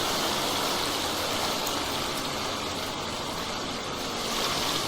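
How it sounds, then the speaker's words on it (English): Roaring forest waterfall, a dense, loud, unbroken rush of falling water filling the whole stretch. "Oh, that sound of the waterfall is deafening."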